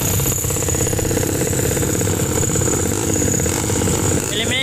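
Enduro motorcycles at an endurocross challenge roar and rev continuously in a dense, loud engine din that fills the whole stretch, with voices mixed in under the noise.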